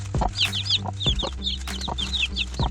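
A hen clucks repeatedly at close range, short rhythmic clucks with higher chirps from chicks peeping over them.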